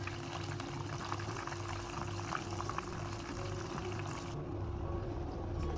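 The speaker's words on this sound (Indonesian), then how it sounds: "Kita goreng menggunakan api sedang." Tofu wontons frying in hot oil over medium heat, a steady low bubbling sizzle that continues evenly throughout, with no talking.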